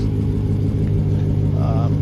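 A white 2014 Dodge SRT car engine runs steadily with a low, continuous rumble throughout, close and fairly loud, with a faint voice under it.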